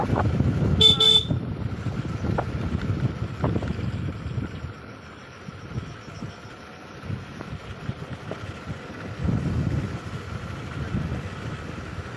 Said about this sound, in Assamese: হৰেণ মাৰি আছোঁ